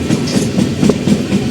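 Bhubaneswar Superfast Express rolling along the tracks, a steady rhythmic clickety-clack of wheels over rail joints with continuous rumbling carriage noise, close and moderately loud, no talk.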